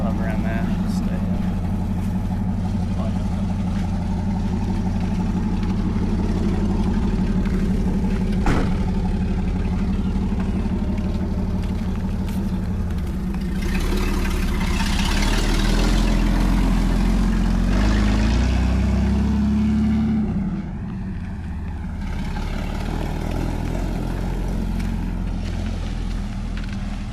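An old, worn Toyota Land Cruiser is driven at low speed, its mid-pitched engine droning steadily throughout with a brief lull near the end, and a person talks over it.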